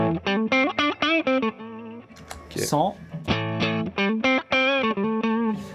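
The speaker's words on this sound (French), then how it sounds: "Voilà, ça c'est un compresseur, il te compresse bien, mais en même temps il te laisse un peu de liberté." An electric indie rock guitar runs through a Signal Chain compressor and a Savage pedal, playing close, punchy crunchy chords in a choppy rhythm, with a brief spoken word and a short slide in the middle.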